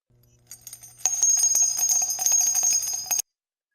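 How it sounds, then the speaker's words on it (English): Sleigh-style jingle bells shaken in a steady rhythmic burst, starting with a few light jingles and then a dense, loud, continuous metallic shimmer for about two seconds before stopping abruptly, with a faint low hum underneath at first. "do we have some jingle bells?"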